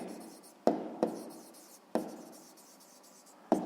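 Pen or chalk strokes tap and scrape in four sharp, separate marks while a math exercise is written out. Each fades quickly into quiet, heard close and alone.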